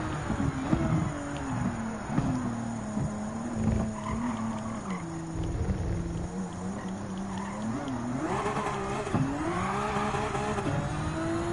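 A car engine in Gran Turismo 7 revs and climbs steadily through the gears, its pitch rising and dipping with shifts, accompanied by brief tire noise, loud and continuous.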